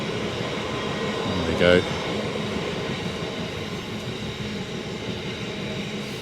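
A freight train rolls past nearby with a steady rumble and rattle of wagons on the rails, continuous and fairly loud throughout, while someone speaks briefly over it.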